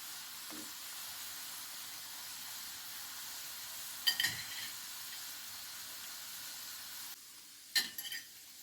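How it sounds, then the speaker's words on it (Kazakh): Noodle dough frying in oil in a pan, a steady close hiss and sizzle running throughout, broken by a couple of brief clattering stirs or turns, with no voices. "Осылай екінші жағында осылай қызартып қуырып аласыздар"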